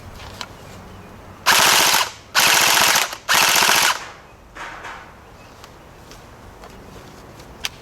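A CP AK74M gel blaster firing, heard as three loud, close bursts of rapid full-auto shots followed by a softer, fainter burst, with quiet mechanical clicks around them.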